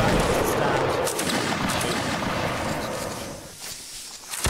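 A massed musket volley crackles from a line infantry regiment in Mount & Blade, a loud rolling fusillade that thins and fades over a few seconds, ending in scattered pops.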